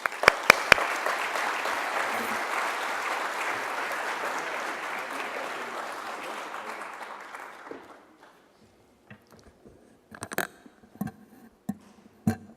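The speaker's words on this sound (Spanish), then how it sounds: "Vamos a darle un gran aplauso de tributo a su permanente lucha por la libertad y la democracia." Loud, dense audience applause at a democracy awards ceremony, holding steady for about eight seconds before dying away into a few scattered claps and faint room noise.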